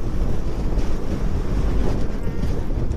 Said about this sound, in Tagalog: Lakas ng hangin na eh.